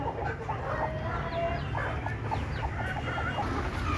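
Native desi hens and roosters in a pen cluck and squawk near and fairly loud, with many overlapping short calls over a steady farmyard background.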